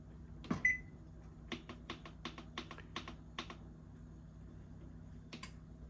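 A series of short, crisp beeps and clicks from an oven's control-panel buttons being pressed to set a 375-degree preheat, about eight quick taps in a row with a brief tone at the start, close and fairly quiet in an otherwise still kitchen.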